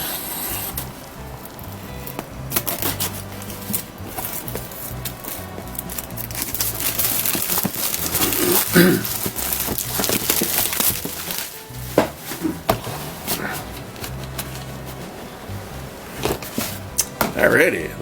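A blade slicing open the box of an AMT 1:25 scale Ford Bronco model car kit, with scraping, rubbing and cardboard crackles, plus taps and rustling throughout, close and moderately loud.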